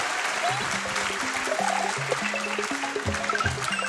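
An audience claps steadily, the applause mixed with light tonal music playing underneath.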